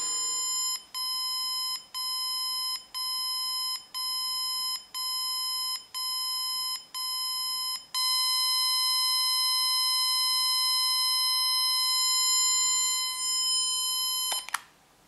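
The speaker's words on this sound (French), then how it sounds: "Donc on a vraiment un volume progressif de la sonnerie." An alarm clock sounds a bright electronic beeping, regular pulsed bursts that then merge into one continuous tone around the eight-second mark and hold steady until it is cut off near the end, fairly clear against a quiet room.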